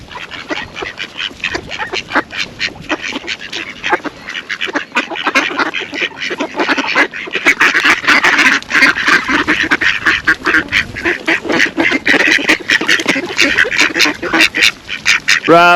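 Ducks quack loudly and repeatedly in a dense, overlapping flock close by, the calls growing louder and busier halfway through, with a voice occasionally talking among them.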